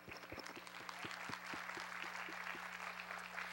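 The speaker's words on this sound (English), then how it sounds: "So round of applause for you guys." An audience applauds in a hall, with steady dense clapping throughout and some louder individual claps near the front. The sound is fairly faint and distant.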